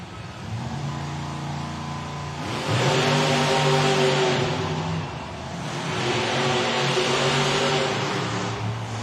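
Excalibur, a monster truck at a Monster Jam event in an arena, revs its engine in two long roaring surges, loud and sustained with a brief dip between.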